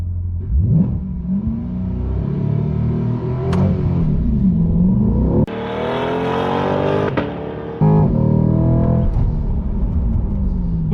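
A Chevrolet Corvette C8 launches hard from a standstill under launch control, the engine revving up through rising gear pulls with sharp shift breaks, loud and close from inside the cabin.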